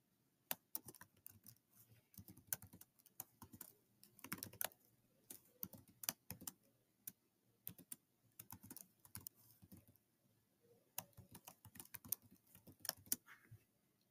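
An expression is typed on a computer keyboard during ACT math practice with an online calculator, the keystrokes coming as soft, close, irregular clicks in quick clusters with brief pauses in a quiet room.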